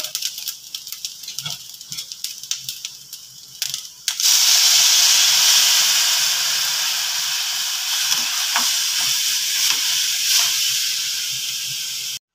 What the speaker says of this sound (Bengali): এবার আমি এখানে দিচ্ছি অল্প একটু জল।